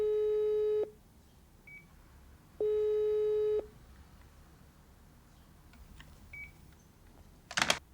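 A telephone busy signal sounds from a cut phone line, two steady mid-pitched tones each about a second long with a gap between them, followed by faint clicks and a short noisy burst at the end.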